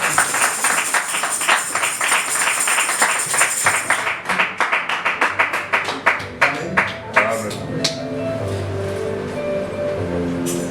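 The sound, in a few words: congregation clapping in church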